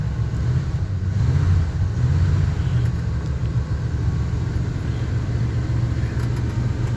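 A 1978 GMC truck engine idles after a cold start in chilly weather, a steady, close, low rumble that holds evenly throughout without pauses.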